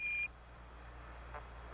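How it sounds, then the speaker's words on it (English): Apollo 11 lunar module 1201 program alarm during the descent to the Moon, two short steady electronic tones with a long quiet gap of radio hiss between them. "Roger, 1201 alarm."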